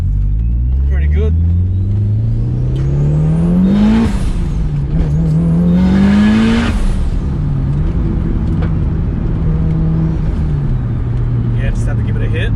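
A Mitsubishi Evo track car on hard race camber and toe arms, driven on a normal road, accelerates with a rising engine drone that climbs in two strong pulls, then settles into steady cruising while a person talks over it.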